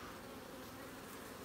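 Honey bees swarm around a hive frame holding capped honey, a steady, faint, continuous buzz with no breaks and no voices.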